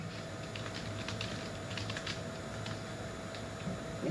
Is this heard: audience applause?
no